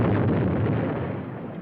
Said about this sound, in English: That explosion is bound to bring a lot of people out.